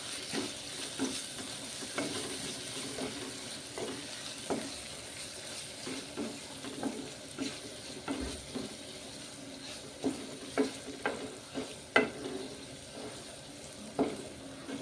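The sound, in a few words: stirring greens with moong dal in pan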